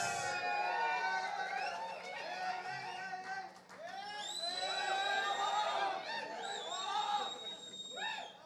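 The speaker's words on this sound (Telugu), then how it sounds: "గట్టిగా చప్పట్లతో పిలిచేద్దామా" A crowd cheers and shouts at a live fan meet as actor Allari Naresh is called onto the stage. Many excited voices and high whoops rise and fall steadily for the whole stretch, with no distinct clapping standing out.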